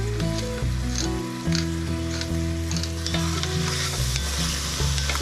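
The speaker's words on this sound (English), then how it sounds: "we're going to saute our apples in that pork fat" Apple slices sauté in hot rendered pork fat in a pan, seasoned with salt and black pepper, giving a loud, steady sizzle broken by repeated stirring scrapes and clatters, with no talking.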